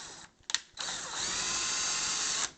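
A screw gun tightens door knob screws, giving a brief click and then a steady, close, high-pitched motor whir lasting about two seconds before it stops.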